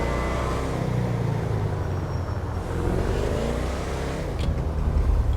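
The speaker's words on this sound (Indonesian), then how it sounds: "Suara mobil host." A car engine in the GTA 5 video game hums and whirs steadily at close range, rising slightly as it revs, with no voices over it.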